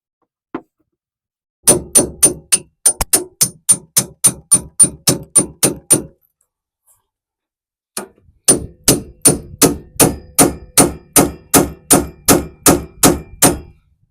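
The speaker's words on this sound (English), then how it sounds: "you can tap the bolt from the bottom and see that helps and give it more vibration, so it will pop with the hammering that we do" A steel hammer strikes a VW Beetle tie rod end bolt in two long bursts of rapid, evenly spaced metallic blows, loud and close, separated by a short pause, with no talking.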